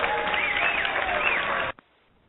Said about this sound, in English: I don't have taps, but I do have the applause.